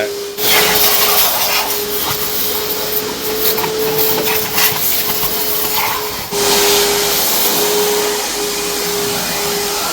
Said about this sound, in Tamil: வேக்யூம் கிளீனர் போட்டு உள்ளே இருக்கிற டஸ்ட்டெல்லாம் சக் பண்ணி எடுத்துரும்